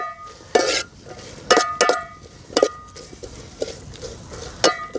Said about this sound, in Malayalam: ഒക്കെ കൂടി നന്നായി ഒന്ന് വണക്കിയെടുക്കുക.